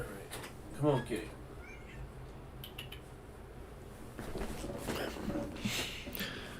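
A cat lets out a short meow early on, fairly close, then gives fainter vocal sounds against a quiet indoor background.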